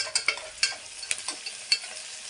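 Onions frying with salt in a pan for vegetable pulao, a faint sizzle punctuated by sharp spatula scrapes and taps against the pan at uneven intervals.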